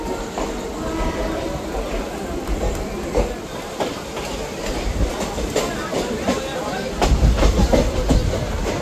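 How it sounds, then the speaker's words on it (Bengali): Maa Tara Express moving out of Bolpur Shantiniketan station on the Kolkata–Tarapith line, a steady rumble of wheels and rail noise throughout that swells louder near the end, with people talking nearby. "আমাদের ট্রেন বোলপুর শান্তিনিকেতন ছেড়ে বেরিয়ে গেল।"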